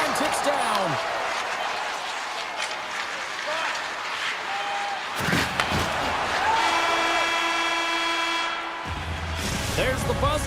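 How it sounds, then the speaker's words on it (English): Arena crowd noise from an eHockey video game broadcast, a steady roar swelling as time runs down in the period, with a horn-like tone near the end and a commentator talking over it. "the crowd urging for them to shoot as time ticks down"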